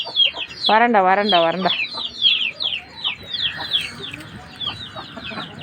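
Hens and chicks cluck and peep close by, a hen's loud drawn-out cackle rising early over a steady chorus of high chick cheeps and soft clucks.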